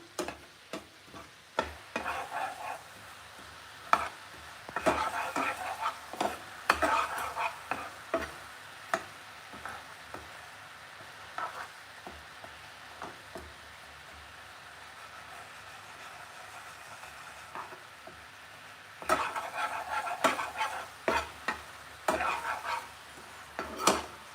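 A spoon stirs jaggery syrup with puffed rice for laddoo in a pan, producing intermittent scraping and crackling strokes at close range, with a quieter stretch in the middle and no voices.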